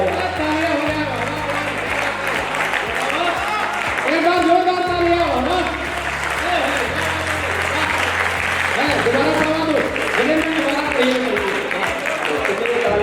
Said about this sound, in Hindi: लेकिन दोबारा इससे ज्यादा तालियां आनी चाहिए।